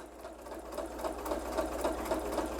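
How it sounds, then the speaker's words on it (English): A sewing machine stitching quilt pieces along the bias, a steady close mechanical whir with a fast, even needle rhythm running continuously. "We are sewing along the bias"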